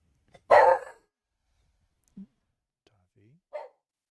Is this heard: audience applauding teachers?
no